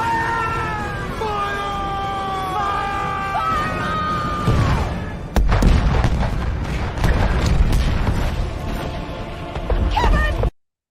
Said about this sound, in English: Let's fire the cannons.